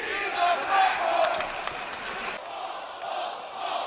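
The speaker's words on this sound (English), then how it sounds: "this crowd is incredibly creative with some of their chants" Wrestling crowd at an ECW event roars and chants loudly in unison, a dense mass of voices that cuts off abruptly and drops to a quieter, more distant crowd murmur.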